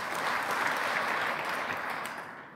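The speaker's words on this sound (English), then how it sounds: "A clap if the right is fake." A lecture audience claps as a vote on a fake image, a short burst of many hands clapping together that holds steady and then tapers off toward the end, heard from a distance.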